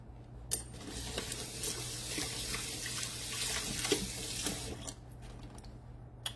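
Food chunks are rinsed under a running kitchen tap, a steady close rush of water into the sink with occasional clinks and splashes, then it stops near the end.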